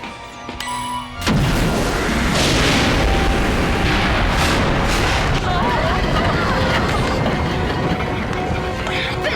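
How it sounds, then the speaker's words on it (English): Heavy blast striking a spaceship in a 1997 science-fiction series, a sudden loud boom that rolls into sustained roaring rumble and debris noise for several seconds, close and dense. "I felt like half the ship just got blown off."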